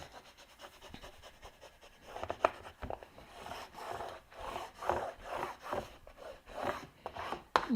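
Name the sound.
burnishing tape onto file folder cardstock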